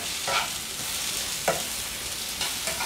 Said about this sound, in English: You stir a bit.